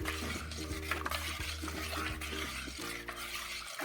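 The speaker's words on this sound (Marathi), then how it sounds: "आणि थोडंसं यामध्ये आता आपण बर्फ घालणार आहोत. आता हे छान मिक्स करायचं." Tamarind juice with ice being stirred, a continuous swirling slosh of liquid with faint knocks of ice, steady and close.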